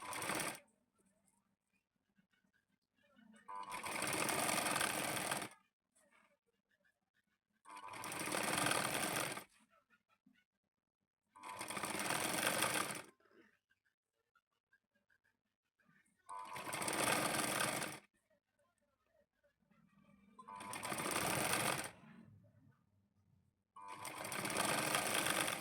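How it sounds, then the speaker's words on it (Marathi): A sewing machine stitching khan cloth for a double-layer quilt runs in six loud, even bursts of a few seconds each, separated by quiet pauses. "साईडच्या बाजूचे ते धागे वरती येऊ नये त्यासाठी इथून एक शिलाई देऊन घेणार आहोत."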